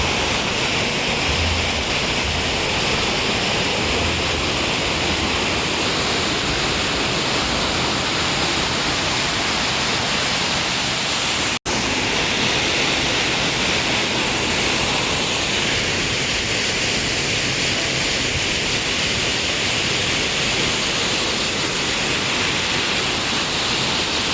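Honnamma Halla waterfall near Chikkamagaluru roars steadily and loudly at close range, a dense unbroken rush of falling water with no voices heard.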